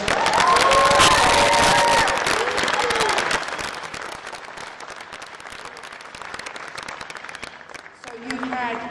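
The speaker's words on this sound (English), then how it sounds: "I think we should give Sabrina another round of applause." Crowd applause and cheers ring out at the US squash championships semifinal, loud and dense at first, then thinning into scattered clapping. A voice starts talking near the end.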